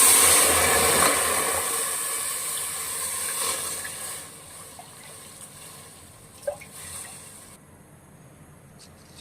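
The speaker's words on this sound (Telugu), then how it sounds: "స్టవ్ పైన కుక్కర్ పెట్టుకొని ఒక గ్లాస్ బియ్యానికి ఎనిమిది గ్లాసుల వాటర్ పోసుకోవాలి" Water pours into a pressure cooker on a stove in a steady rushing hiss, loud at first and gradually thinning out, with a few faint clinks near the end.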